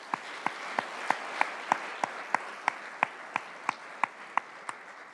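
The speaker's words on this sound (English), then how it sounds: "let's give them all a round of applause" Applause honouring City of Irvine Public Safety staff at the Irvine mayor's 2020 State of the City address. A soft, hissy bed of crowd clapping runs under sharp, evenly spaced claps from a nearby pair of hands beating a slow, steady rhythm.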